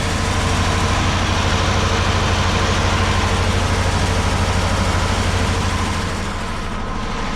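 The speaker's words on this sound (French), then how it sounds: "tu as un gros compresseur thermique" A large thermal compressor engine runs inside a truck with a loud, steady, low mechanical drone and an even idling hum. It continues without a break and eases slightly toward the end.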